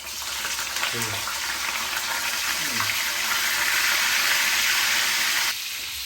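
Salted fish fries in a pan with a loud, steady sizzle and crackle that stops abruptly near the end, with a brief voice murmuring underneath.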